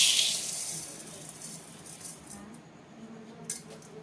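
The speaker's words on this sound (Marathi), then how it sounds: "आणि हे चांगलं धुवून घेऊ आता." Rice being washed by hand in water in a metal pot, a brief splashy rattle at the start fading into soft, faint swishing and occasional light clinks, close by with no talking.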